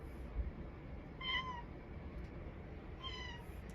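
A cat meows twice for a snack, two short clear calls about two seconds apart over faint room noise, with no talking.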